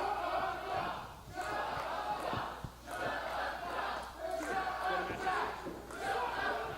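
A wrestling show crowd cheers and shouts in waves, a loud rolling roar of many voices rising and falling throughout.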